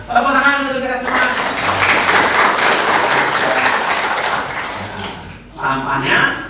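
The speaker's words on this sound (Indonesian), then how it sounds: "tepuk tangan untuk kita semua" A classroom audience breaks into loud, dense clapping after a voice speaks briefly. The applause holds steady for several seconds, then fades as talking resumes.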